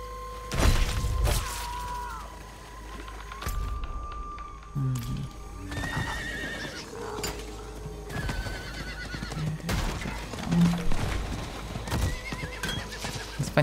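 A horse mount in the Diablo 4 video game neighs loudly near the start and again later, with a rhythmic clip-clop of hooves running throughout. Game effects are mixed in, and a player talks intermittently over the sounds.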